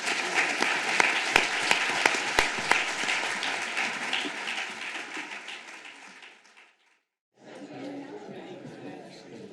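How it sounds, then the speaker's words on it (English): Audience applause at a restorative justice conference, a broad wash of clapping with a few sharp individual claps that fades out, then a brief silence before voices and room chatter resume. "ladies and gentlemen, a round of applause for our fine."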